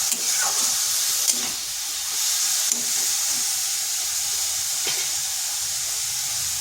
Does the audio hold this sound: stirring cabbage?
yes